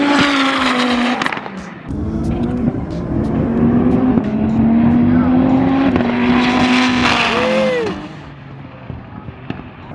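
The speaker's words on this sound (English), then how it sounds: "Oh my god, these cars are fast." Drag racing cars, including a twin-turbo Viper and a GT-R, roar loudly as they accelerate down the strip, with engine notes climbing and overlapping before fading, and spectators calling out over the noise.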